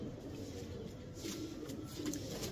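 Pigeons cooing faintly in a coop during a rainy winter spell, soft low murmuring coos blending with steady background hiss, no speech over them.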